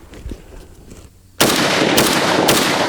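An AK47 rifle loaded with an Xtech tactical magazine fires after a quiet moment: a sudden loud, close report, then two more shots about half a second apart, each ringing on into the next.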